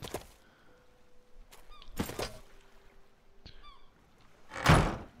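A door shuts in the survival video game Sunken Land, heard as a few dull, solid thunks spaced over several seconds, the last one the loudest, with faint ambient game sounds between them.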